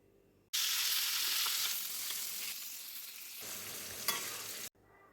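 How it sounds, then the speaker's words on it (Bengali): Rohu fish sizzles loudly in a hot pan for several seconds, a steady bright frying hiss that fades slightly before stopping abruptly, with no voices. "মাছটা উল্টিয়ে দিলাম, এক পাশ হয়ে গেছে।"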